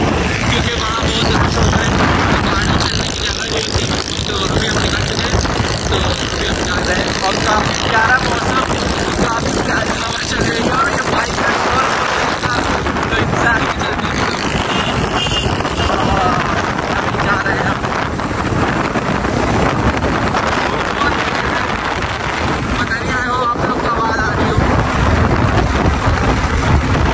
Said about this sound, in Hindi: आज हम जा रहे हैं बाइक पर